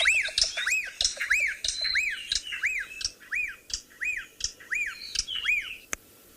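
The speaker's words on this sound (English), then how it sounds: "I want to now play you my second favourite call. This is the black-backed puffback" A black-backed puffback repeats a rapid series of sharp, arching squawking calls, about a dozen in steady rhythm, close and clear, ending with a click.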